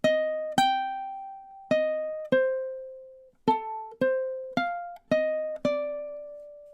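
A ukulele plays measure 17 of a tune, about ten clear plucked notes in an uneven swinging rhythm, each ringing briefly and decaying, close and alone with no voices.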